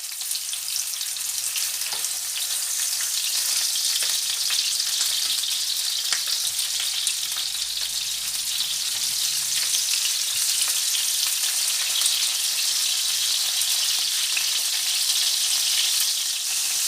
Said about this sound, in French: une fois que notre huile est suffisamment chaude, on va toujours mettre le côté peau vers le bas. On va frire